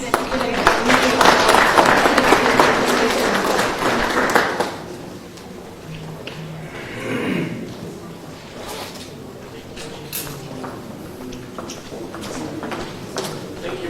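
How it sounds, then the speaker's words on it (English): Applause for a panel speaker at a Zimbabwe contact center conference, a dense round of clapping for about four and a half seconds that cuts off, followed by quiet room sound with faint voices. "give a round of applause to Fazai"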